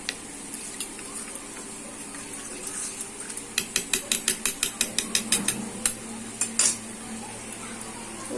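A spoon stirs turmeric, chilli and cumin powder into a spice paste in a bowl, making a quick run of about a dozen sharp, close metallic clinks in the middle, then a few scattered taps.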